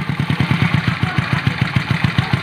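A Honda Dream motorcycle with a freshly rebuilt engine idles steadily through its exhaust, its soft, even thumps repeating rapidly and evenly at close range with no voices.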